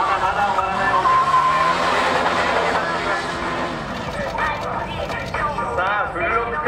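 A KTM RC8 motorcycle drifts and skids through a full-lock 180-degree turn at an extreme bike demo at Motor Sport Japan 2016, engine revving with wavering tire squeal beneath loud continuous announcer commentary.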